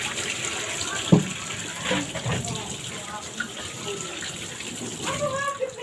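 Salted tiny shrimp paste (alamang) rinsed under a running kitchen tap, with a steady wash of flowing, splashing water throughout, a few brief knocks on top, and a voice speaking faintly at moments.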